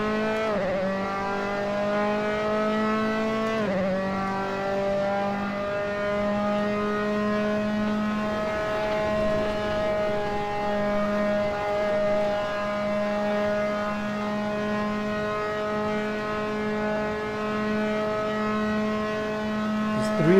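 Formula 3 race car engine at Spa, heard from the cockpit as a loud, steady high-pitched drone with a gearshift dip early on, then sustained revs over a long stretch.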